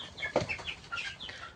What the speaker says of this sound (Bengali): মুরগিগুলো, দেখুন কত বড় বড় হয়ে গেছে।